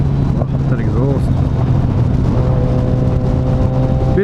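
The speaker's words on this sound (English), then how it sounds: "Oh, that exhaust." A 2012 Yamaha FZ6R motorcycle with a loud aftermarket exhaust idles and revs nearby, a deep, steady engine drone with rising and falling pitch as the throttle opens, while someone talks over it.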